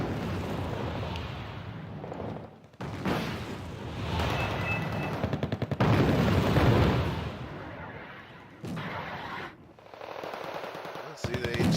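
Mortar and gunfire in the NORAD Wargame strategy game, with dense bursts of shelling, rapid automatic fire and explosions rumbling continuously at loud, steady intensity, broken by brief drops and occasional faint talk underneath.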